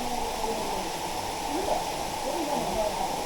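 Vazhvanthol waterfall stream near Trivandrum flows over rocks in the forest, a steady continuous rushing and gurgling of water with a person speaking faintly over it.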